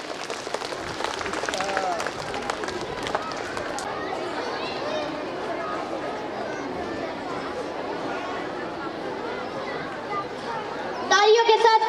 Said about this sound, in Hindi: एक जोरदार तालियां हो जाए सेकंड क्लास के लिए।